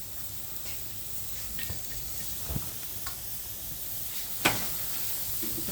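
Onion and garlic frying in a pan, a steady soft sizzle and hiss with occasional faint pops and clinks, low and even throughout.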